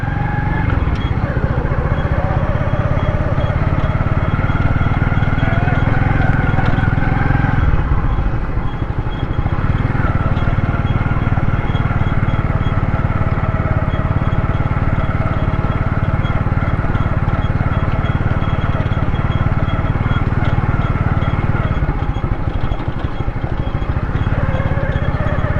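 Motorcycle engines droning steadily at a women's motorcycle training ground on a cricket ground, a loud continuous low rumble throughout.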